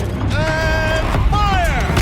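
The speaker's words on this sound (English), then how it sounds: "Rotate turret!" A mechanical turret in Horizon Zero Dawn rotating with creaking, grinding whines that rise and fall in two sweeps, close and loud.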